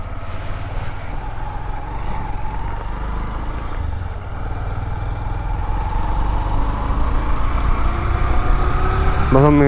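Main road traffic passes while riding a motorbike, a steady rumble of engines and tyres that grows louder toward the end, with a rising engine whine at the close and talk over it.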